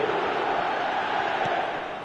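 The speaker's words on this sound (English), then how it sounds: "there's a real sense that the momentum has shifted here, Peter, and the crowd are reacting to that now." Steady broadband roar of a stadium crowd in a PS5 football video game, a continuous loud wash of massed voices with no breaks across the clip.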